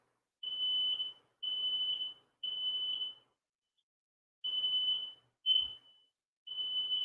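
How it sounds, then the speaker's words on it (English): A household smoke detector sounds off indoors with a loud, high-pitched electronic alarm, about six long beeps in an uneven series with short gaps, heard alone without talk. "it was our smoke detector"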